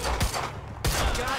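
Bursts of gunfire in the video game Quantum Break, two sharp volleys about half a second apart amid a busy, loud background with shouting nearby.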